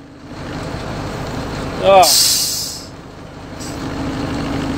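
A Volkswagen 13-180 dump truck idles as its tipper body is raised by power take-off, with a sharp burst of air hiss partway through over the running engine, and someone speaks briefly.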